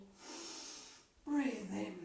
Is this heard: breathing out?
yes